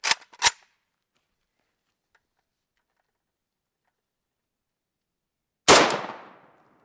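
An AK-47 rifle fires 7.62x39 rounds at a car door outdoors: two sharp shots in quick succession, a long quiet gap, then a single loud report with a trailing echo.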